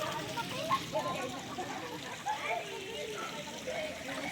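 Natural spring water at Tinagong Batis in Montalban, Rizal flows and trickles steadily nearby, a soft continuous wash under a person talking.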